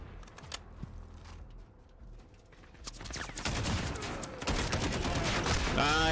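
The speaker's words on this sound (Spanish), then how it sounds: "me estaba disparando uno desde la ventana, creo" Gunfire in the Modern Warfare video game: scattered single shots and mechanical clicks at first, then sustained loud bursts of automatic fire that fill the rest of the moment.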